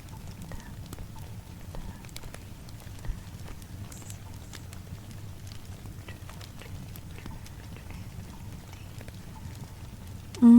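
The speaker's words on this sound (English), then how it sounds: "Just listen to the rain" Soft, steady binaural rain patters gently with scattered light drops and taps over a low, even background wash.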